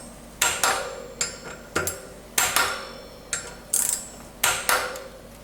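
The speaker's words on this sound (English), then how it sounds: "Then you will again take your torque wrench set to 6 Newton meters" Torque wrench tightening bolts on a Rocky Mountain six-bolt brake rotor install, a series of close, loud metallic ratcheting clicks in about eight evenly spaced bursts, no talking.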